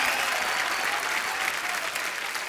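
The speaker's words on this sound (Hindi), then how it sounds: "जोरदार तालियां।" Enthusiastic applause from a television studio audience on The Kapil Sharma Show, a thick, steady wash of clapping holding at a constant level throughout.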